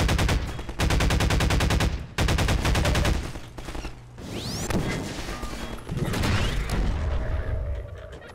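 Rapid bursts of automatic gunfire from Half-Life 2, loud and close, arriving in repeated volleys, then giving way to clanging impacts and mixed game effects, with a voice talking faintly underneath.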